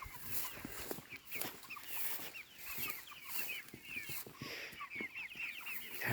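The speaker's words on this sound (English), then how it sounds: "they're happy chickens" Chickens cluck steadily in a backyard flock, a busy chorus of soft, overlapping clucks and short calls at moderate distance with no talking.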